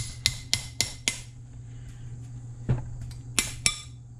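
A clogged, 1950s gas-powered air compressor that sat unused for 30 years takes a few sharp metallic taps, four quick strikes in a row followed by a pause and then three more, close and clear over a low hum.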